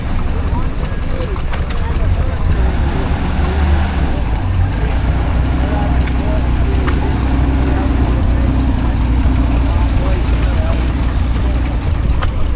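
An American military truck rolls past at a country show, a low engine rumble under steady wind buffeting and nearby talk, heard outdoors for the whole stretch.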